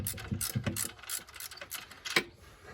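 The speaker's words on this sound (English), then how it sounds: "then you loosen this top bolt, which frees up the belt" Socket ratchet pawl clicking in quick bursts as the top bolt of the belt tensioner is loosened on a Nissan VG33 engine, close and fairly loud with uneven pauses and no talking.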